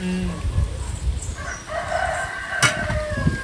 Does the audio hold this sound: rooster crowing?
yes